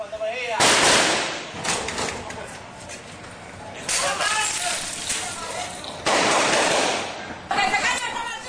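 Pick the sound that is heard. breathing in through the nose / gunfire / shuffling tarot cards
gunfire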